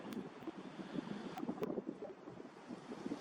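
Steady gusty wind rushes through dripping-wet bush, a continuous broadband roar that rises and falls over a few seconds with no voices.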